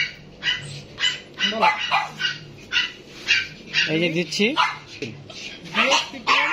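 A dog yips and barks repeatedly in short bursts, close by, with a person talking intermittently between the barks.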